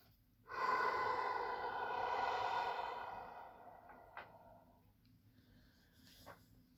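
A slow, deep relaxation breath, one long airy exhalation lasting several seconds that fades gradually, followed by quiet with faint small sounds.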